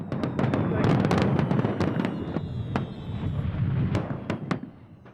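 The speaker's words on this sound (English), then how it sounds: "the town hall organises a large fireworks display on the beach" Large seaside fireworks display on a beach, a dense crackling roar of bursts with sharp individual pops and bangs, and a crowd murmuring underneath throughout.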